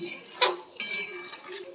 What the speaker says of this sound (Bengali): ভালো মতো আমি নেড়ে নিই নাড়াচাড়া করে নিই